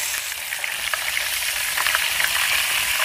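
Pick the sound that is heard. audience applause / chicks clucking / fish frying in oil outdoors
fish frying in oil outdoors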